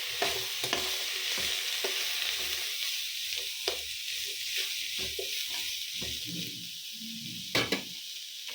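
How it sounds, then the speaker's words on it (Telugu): Carrots fry in a pan with a steady close sizzle, while a utensil scrapes and taps against the pan at irregular intervals as they are stirred. "మంచిగా ఫ్రై చేసుకోవాలి క్యారెట్స్ని"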